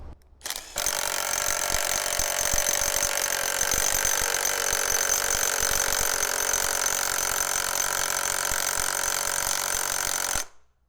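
An Ingco 850 Nm cordless impact wrench fastening hammers out a continuous, loud, close rattling burst of about ten seconds that starts and stops abruptly.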